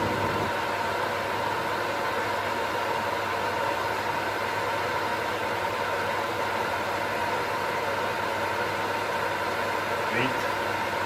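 A kitchen range hood extractor fan runs at its third speed, a steady, even whoosh of moving air with a low hum underneath, unbroken for the whole stretch.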